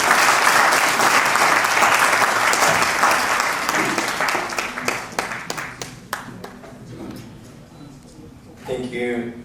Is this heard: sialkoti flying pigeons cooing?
no